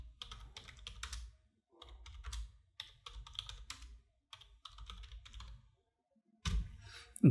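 Fingers type on a computer keyboard in quick, close clicking bursts separated by short pauses, quiet and without any voice.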